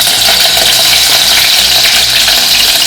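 Chopped onion frying in hot tempering oil with cumin, a steady loud sizzle filling the whole moment without pause, no voices.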